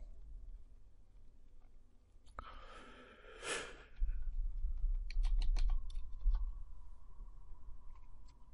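Keys clack on a computer keyboard as the Enter key is pressed, a few sharp, close clicks with soft breathy noise in a quiet room.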